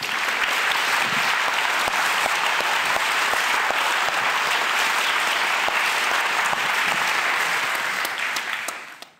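A debate audience votes by clapping, producing loud, sustained applause from a large crowd that holds steady for about nine seconds before tapering off at the end.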